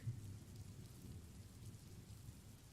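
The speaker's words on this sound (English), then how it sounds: "Right, it's just rain." Steady, faint rain with a low rumbling undertone, continuous and even throughout, with no voices.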